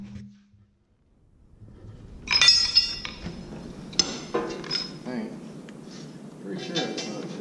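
Metal bolts clinking and rattling against a steel guard on a John Deere 333G as they are fitted, a few sharp close clinks and scrapes after a quiet start, with a voice speaking in places.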